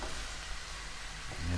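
Paklay is stirred in a frying pan, with a soft, steady sizzle and faint scraping heard up close and fairly quiet.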